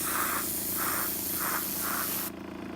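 Four short hissing bursts from a spray can painting a model Sunshark bomber, evenly spaced, then the spraying stops.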